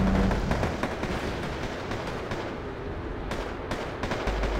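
A-10 aircraft attack fire in a war video game, a sustained barrage of rumbling, rapid gunfire and explosions, loud and dense throughout with no talk.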